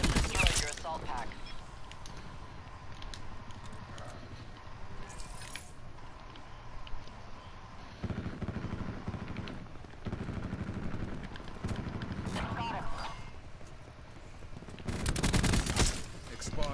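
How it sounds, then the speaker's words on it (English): Sustained bursts of attack helicopter gunfire in a Call of Duty–style video game, a dense rattling fusillade with louder blasts toward the end, under occasional voices. "Attack chopper standing by."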